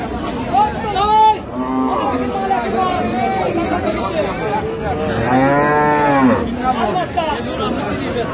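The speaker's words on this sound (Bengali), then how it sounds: "গাভী বাছুর আমরা দেখছিলাম এখানে" Dairy cows and calves at a busy cattle market, with several loud, drawn-out moos close by, one long low call standing out near the end, over constant crowd chatter and people talking.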